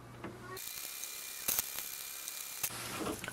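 An HP Envy Pro 6432 inkjet printer starts a print job with soft mechanical whirring and a few ratcheting clicks as the paper feed engages, quiet and close by in an otherwise still room.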